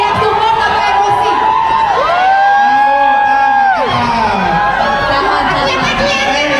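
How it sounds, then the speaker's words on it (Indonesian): Fans scream and shriek at a red carpet gala premiere for the film La Tahzan: Cinta, Dosa, Luka. A loud, dense crowd roar carries sustained high-pitched screams that rise and fall, with voices talking close by. "Ini teriak support atau kebencian ya?"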